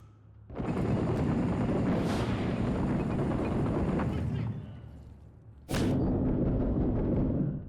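Frag grenade explosions in Six Days in Fallujah: two loud, close, roaring booms, the first rumbling for several seconds before fading, the second following shortly after, with voices heard faintly amid the blasts.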